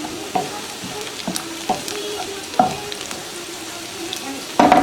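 Garlic sizzles in hot oil for a tomato daal tarka while a utensil stirs it, scraping the pan at irregular intervals, with a louder clatter at the end.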